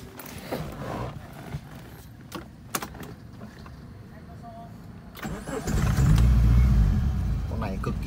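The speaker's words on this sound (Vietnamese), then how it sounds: "lổ máy này cho anh em chị em chúng ta nghe tiếng động cơ các bác nhá" A 1996 Japanese-import Suzuki car's engine idles, then rises to a louder, steady low rumble in the final seconds, with someone talking over it throughout.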